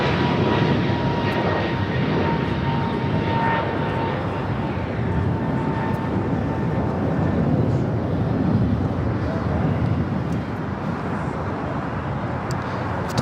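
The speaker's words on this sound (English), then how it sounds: "Air China, the 777-300ER taking off there on the north side, 2-4 right" An Air China Boeing 777-300ER takes off from runway 24 Right on the north side of LAX, a loud sustained jet roar with whining engine tones that stays strong throughout, under faint background talk.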